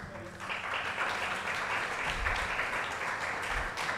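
A crowd applauds steadily at the NTA Awards 2024 open mic poetry event. The clapping is dense and even, holding at a moderate level for about four seconds with no pause.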